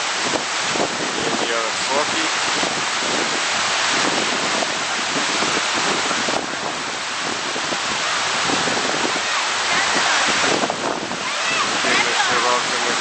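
Bridal Veil Falls, a broad cascading waterfall near Chilliwack, rushes in a continuous loud roar mixed with wind buffeting the microphone, with voices faintly present.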